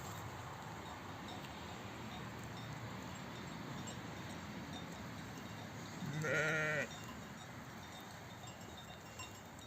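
A single bleat from a ewe giving birth in a pasture rings out partway through, near and clear, over a constant background of wind and rustling.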